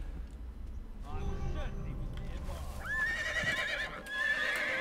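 In an Assassin's Creed game, a horse whinnies loudly with rising, wavering cries over clattering hooves and game action, while a player talks over it.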